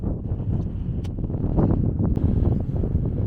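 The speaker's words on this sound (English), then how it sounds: "it's a bit windy up here" Steady wind roars and buffets against the microphone up on open downland, a loud continuous low rumble with faint rustling and no voices.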